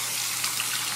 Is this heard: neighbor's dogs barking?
no